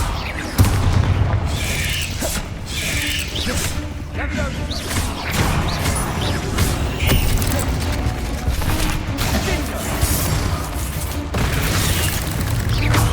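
Repeated Confringo spell blasts in Hogwarts Legacy, dense booming explosions and crashing impacts going on nearly continuously, with voices casting spells over the din.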